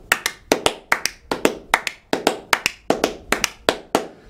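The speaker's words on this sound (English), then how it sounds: "We tried doing a clapping one" Hands clap out a repeating two-bar rhythm, crisp close claps grouped in short patterns that cycle steadily for several seconds with no voices.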